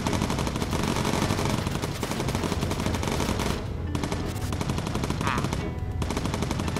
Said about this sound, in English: Hear a lot of explosions.